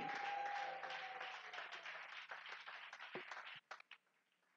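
A church congregation at a worship gathering claps in sustained applause that thins out into a few scattered claps toward the end.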